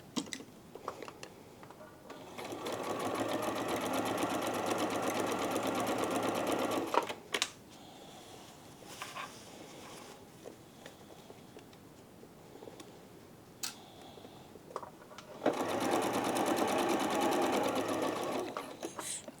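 A sewing machine stitches a trouser zip in two sustained close runs of rapid, even mechanical whirring, separated by a quieter stretch of small clicks and handling sounds.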